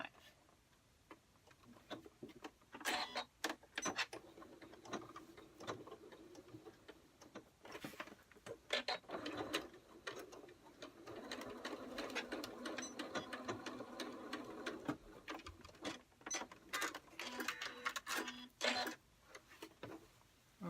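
A sewing machine stitches a diagonal line across the placket of a shirt dress, running in short bursts of rapid ticking stitches with brief pauses between them, quiet and close.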